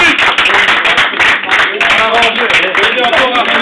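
An audience at a sponsored swimming event speech claps loudly and continuously, with individual claps standing out in an irregular rhythm and voices calling out over the applause.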